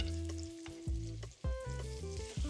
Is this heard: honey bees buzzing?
no